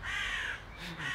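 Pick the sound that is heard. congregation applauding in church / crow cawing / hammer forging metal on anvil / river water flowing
crow cawing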